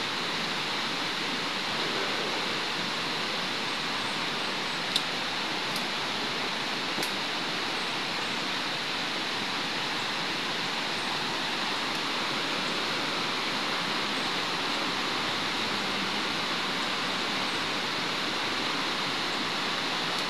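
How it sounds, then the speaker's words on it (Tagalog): A steady, unbroken rush of flowing water fills the scene, even and continuous like a nearby river current. "So may narinig po tayo ng agos ng tubig po"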